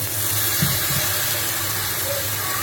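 A little water goes into a hot pan of black chickpeas and rice, giving a steady, close hiss and sizzle that holds evenly throughout with no voices.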